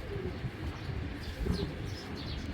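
A red khaki male pigeon with booted feet, a Giribaz breed, coos softly close by amid faint background noise.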